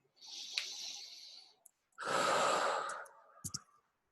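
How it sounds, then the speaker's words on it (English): Two slow, deep breaths taken as part of a calming breathing exercise, a long airy exhale followed by a pause and a second fuller breath, with a few soft clicks at the end and no talking. "how we feel now after doing that simple breathing technique"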